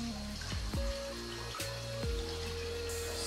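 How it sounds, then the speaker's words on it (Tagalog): Water from the Fountain of Longgi inside Ryugashi-do cave runs and trickles steadily, a close, continuous splashing flow with a few louder bursts, and no talk. "Fountain of Longgi"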